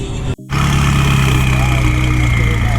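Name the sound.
McLaren car engine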